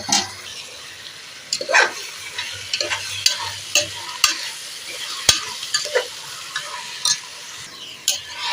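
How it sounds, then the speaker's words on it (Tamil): A ladle stirs chicken in a pot for biryani at an Independence Day cooking event for children, giving repeated clattering scrapes and knocks over a steady frying sizzle, close and fairly loud. "ஒரு கரண்டி எடுத்து கிண்டி"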